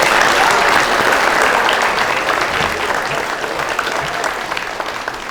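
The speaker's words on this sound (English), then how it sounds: "Let's applaud for him anyway." A school award ceremony audience applauds, a thick wash of clapping that starts loud and tapers slightly while holding steady to the end.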